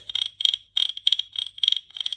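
A wooden cricket instrument is scraped in quick, rhythmic rasping chirps, about eight short bursts with brief pauses, close and clear without any voices.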